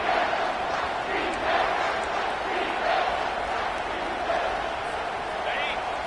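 A packed football stadium crowd roars loudly and steadily on a third-down defensive play, a dense, continuous wall of cheering and yelling that holds at full volume throughout.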